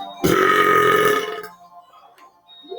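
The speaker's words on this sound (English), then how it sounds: "now what I gotta do next is belch for you guys" A single loud, drawn-out belch lasting over a second, very close and rough, then trailing into quiet.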